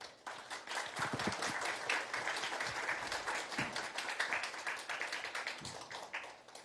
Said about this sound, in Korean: 우리 수고해주신 본부장님, 원장님, 그 개발진한테 우리 박수 한번 좀 보내주시죠